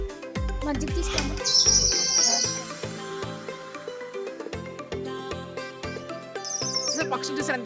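Birds chirping with high, bright calls in short bursts at Japali Hanuman temple in Tirumala, mixed with background music and ambient noise, the birdsong clear but not dominant.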